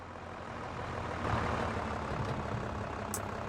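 A tractor engine in a farming simulator game drones steadily at close range with low rumble, rising slightly mid-way, with a brief high tone near the end; no talking.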